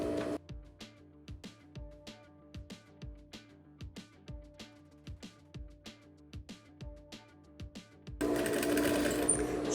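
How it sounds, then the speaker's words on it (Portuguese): Sewing machine running in steady rhythmic bursts while topstitching two seams on jeans shorts, close and clear, ending in a louder broadband rush of noise for the final two seconds. "Agora eu vou passar 2 costuras aqui em cima."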